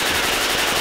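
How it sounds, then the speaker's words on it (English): Gunfire in the video game Left 4 Dead 2 makes a dense, loud, continuous burst lasting under a second, with no break between rounds. "I accidentally shot the witch."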